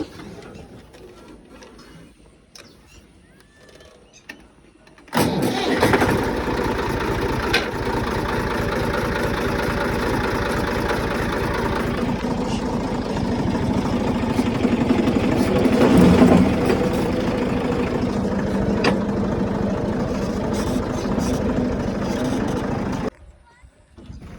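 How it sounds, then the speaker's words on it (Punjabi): A tractor engine cranks and catches, then settles into a loud, steady, rumbling idle that runs close by for most of the stretch before stopping abruptly, with voices faintly present. "ਟਰੈਕਟਰ ਬਾਹਰ ਕੱਢੀਏ ਹੁਣ ਕਰਦੇ ਆ ਸਟਾਰਟ ਇਹਨੂੰ ਕੱਢਾਂਗੇ ਬਾਹਰ ਨੂੰ"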